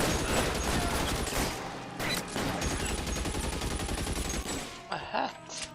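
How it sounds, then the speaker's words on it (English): A Tommy gun laying down covering fire in L.A. Noire, with loud sustained bursts of rapid automatic gunfire, a short pause and then more shots and crackles. "Give my Tommy gun. Lay down some covering fire."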